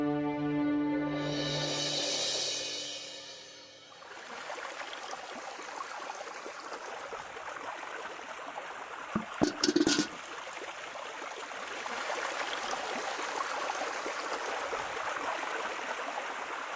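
Water runs into a bucket with a steady, close rush and gurgle, following a short tonal passage at the start and broken by a brief clatter midway.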